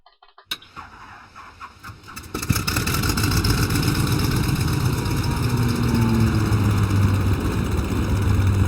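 A propeller plane engine in the Jack Keane adventure game starts with a few sputters, then settles into a loud, steady droning run that holds for several seconds.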